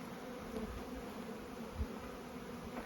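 A low, steady buzzing of honey bees fills the clip, a soft continuous drone with slight swells, no voices.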